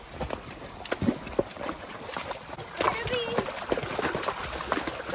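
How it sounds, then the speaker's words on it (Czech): A horse walking through a shallow forest stream, its hooves splashing and knocking on stones in irregular steps, close by, while people talk throughout. "Pojď, Andul, jdeš potokem. Jdete potokem"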